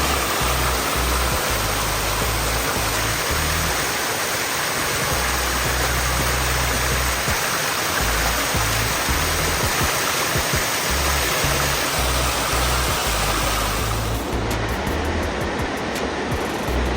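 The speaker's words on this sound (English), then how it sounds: "Here's a waterfall." Waterfall on the Foothills Trail: a steady, loud, broadband rush of falling water fills the whole stretch, with faint low thumps beneath it and no talk.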